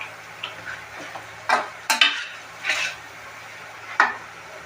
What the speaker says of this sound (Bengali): আমি এখন ভেজে নেবো কিছুটা।